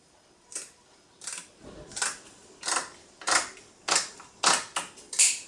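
Household scissors snip through a raw sole, making about eight sharp crunching cuts in a steady rhythm, close and fairly loud, with quiet pauses in between.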